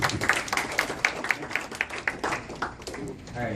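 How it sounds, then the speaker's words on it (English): At a hackathon, an audience claps for a presenter who has shown wearable technology. The claps are distinct and fairly close, coming in a rhythmic run of sharp hits that thin out toward the end. "Why don't we give him a round of applause?"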